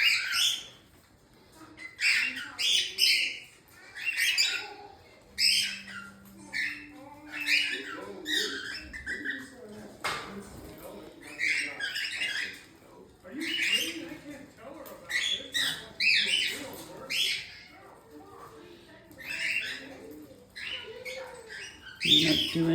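Small caged birds chirp and tweet in quick repeated bursts close by, with occasional soft cooing, while a person talks gently to a dog in between.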